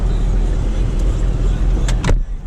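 Kia Stinger GT2 on a test drive, a loud steady low road and engine rumble with a couple of brief sharp mechanical clicks near the end before the noise drops away.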